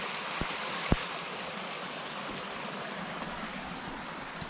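A stream runs along the Appalachian Trail in December, a steady broadband rush of flowing water with no talk and two brief thumps early on.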